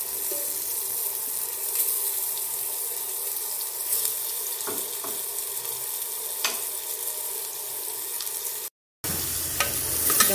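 Onion frying in a pan for homemade creamy beans, a steady close crackling sizzle with faint stirring clicks throughout, briefly cut to silence near the end before resuming.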